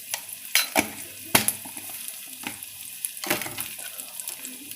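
Onions fry with a pinch of salt in a pan, a soft sizzle under several sharp clinks and scrapes of a spoon against metal, close and without speech.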